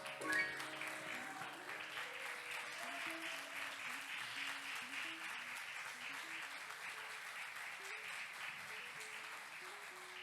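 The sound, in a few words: congregation applauding in church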